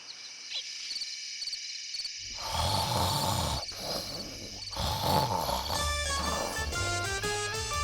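An elderly woman in an animated comedy snores loudly and rhythmically, with rasping, growly breaths in repeated cycles and whistling tones over a droning background.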